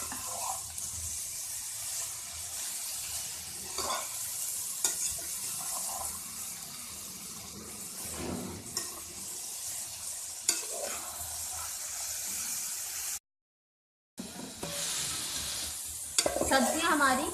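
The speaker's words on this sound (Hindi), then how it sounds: "पाँच से 7 मिनट फ्राई करेंगे हल्का सा, ये गोभी थोड़ी सी" Vegetables with cabbage sizzle steadily in a pan and are stirred now and then, giving a continuous hiss broken by occasional scraping clatters, with a brief gap of silence near the end.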